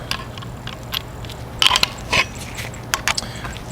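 A M5 by 35mm bolt being tightened to fasten a 3D printed folding stock adapter onto a picatinny rail of a 37mm launcher, heard as sparse, faint mechanical clicks and ratcheting scrapes in short bursts against quiet background.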